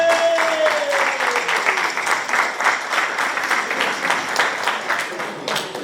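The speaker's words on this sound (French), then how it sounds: "applaudissez-moi s'il vous plaît" An audience at a customary wedding gives sustained, dense applause with many hands clapping together, loud and continuous throughout, with faint voices mixed in.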